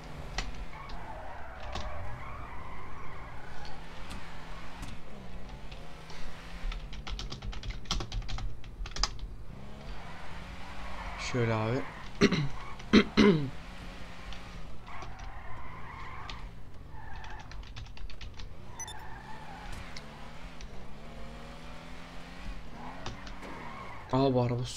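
A car drives in GTA 5, its engine note rising and falling with gear changes and brief tire squeals, heard under steady keyboard typing and someone talking.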